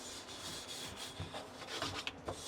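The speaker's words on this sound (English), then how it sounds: "we get out our scrub brush for that, hit it with some 701" A scrub brush scrubs the frame of a screen printing screen with 701 cleaner, a close, steady raspy rubbing with uneven back-and-forth strokes and no talking.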